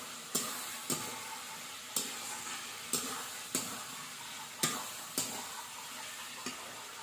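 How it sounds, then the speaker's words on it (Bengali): Fried pointed gourd stirred into a spice mix in an oil pan over a wood fire, with about eight sharp, evenly spaced scraping knocks of a spatula over a faint sizzle, near and clear. "আমি পটল ভাজা দিয়ে একটু নেড়ে নেবো মশলা দিয়ে একটু ভালো করে মিক্স করে নেবো"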